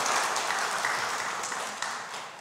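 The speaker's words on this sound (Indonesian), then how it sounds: "Sekali lagi tepuk tangan untuk beliau-beliau." Talk-show audience applauding in an indoor hall, a fairly faint, even wash of clapping that holds steady and fades slightly toward the end.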